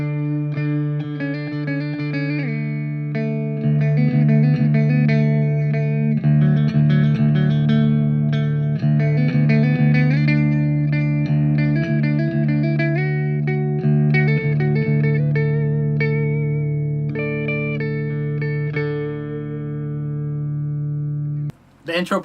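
Electric guitar with a steady low D pedal tone drone under it while melodic notes move above, effects-heavy and sustained, playing alone for about twenty seconds before cutting off.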